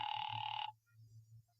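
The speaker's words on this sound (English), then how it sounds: "Ringing the police department" A telephone bell rings in a burst lasting well under a second in an old-time radio drama, then cuts off, leaving only a low steady hum.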